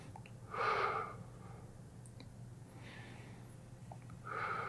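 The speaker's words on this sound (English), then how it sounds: "let's work on the breathing aspect" Slow, deep breaths during an upper-back stretching routine, each one an audible airy whoosh standing out against a low steady hum; two strong breaths near the start and end with a fainter one in between.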